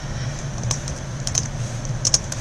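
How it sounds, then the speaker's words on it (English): Someone types a test post on a computer keyboard while setting up a blog: a few quick, light key clicks in short bursts over a steady low background hum, with no talk. "And then you can, just type in, this is just for a test."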